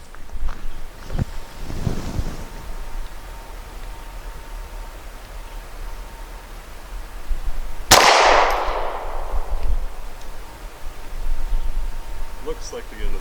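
A Hi Point C9 pistol fires Honor Defense rounds at an outdoor range: one loud, sharp shot midway with a ringing decay, set among wind noise and a few faint handling knocks.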